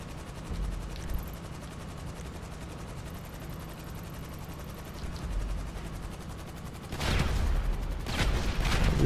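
Gunfire in the GTA 5 Doomsday Heist, a steady background rumble of shots that swells into heavier, louder bursts near the end, with no talk.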